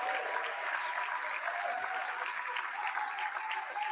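Audience applause at a political dinner speech, steady continuous clapping from a sizeable crowd held at an even level throughout.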